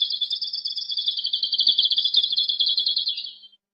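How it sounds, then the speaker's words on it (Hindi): A bird in a Hindi children's moral story chirps in a rapid, continuous high trill, loud and close, running unbroken for over three seconds before cutting off, with no speech. "वो चहचहाकर उन्हें बुलाने लगा।"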